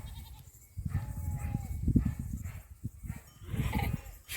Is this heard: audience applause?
no